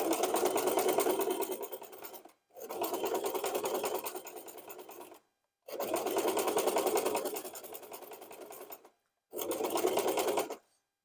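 A sewing machine stitches a scrunchie around in a circle, running in four steady bursts of a few seconds each with short silent pauses between, close and clear with no talk.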